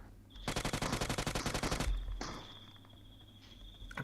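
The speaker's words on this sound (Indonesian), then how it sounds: "Apa yang ditembak sama bot ini? Pasti ada yang ditembak ini." A bot in PUBG Mobile fires a fast, evenly spaced burst of roughly twenty gunshots, then the firing stops and a quieter high tone lingers.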